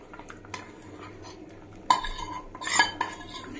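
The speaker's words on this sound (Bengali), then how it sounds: "ভেজে রাখা মশলাটা পুরো মিশ্রণের মধ্যে দেওয়ার পর এটাকে আমরা খুব ভালোভাবে নেড়ে দেবো" A spoon stirs fried spice mix into a pot of Gobindobhog rice, lentil and vegetable khichuri, giving quiet clinks and scrapes, then a few louder metallic scrapes against the pot near the end.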